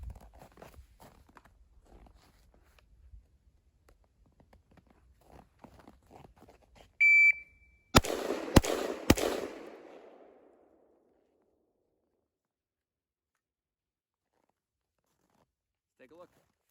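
Three rifle shots from a Palmetto State Armory rifle firing 5.56 Winchester M855, a quick evenly spaced triple crack after a beep, with rustling and faint movement before and a fading ring afterward.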